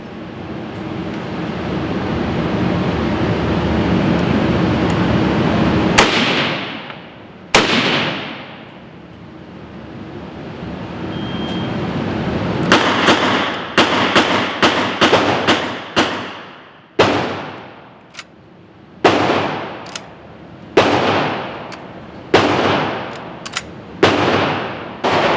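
Sharp gunfire from an old M1 Carbine rifle: one shot, a second a moment later, then a rapid string of separate reports, each loud and close with a decaying echo, after a stretch of steady background noise.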